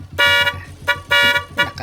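A car horn honks in three sharp, close blasts, the middle two longer, each a bright, buzzy tone with short gaps of quiet between them.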